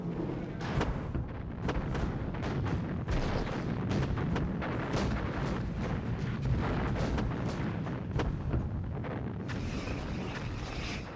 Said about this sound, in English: The Soviets begin the largest artillery assault ever seen.